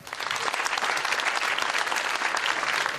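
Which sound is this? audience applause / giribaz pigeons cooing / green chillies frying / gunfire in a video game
audience applause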